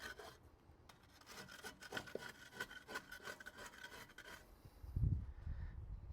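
A scraper rasps burned residue off the grate of a Blaze Kamado grill in quick repeated strokes, close and fairly quiet, ending with a duller thump.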